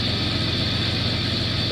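Steady tractor engine drone from Farming Simulator 19, a continuous low, even rumble at constant loudness with no talk over it.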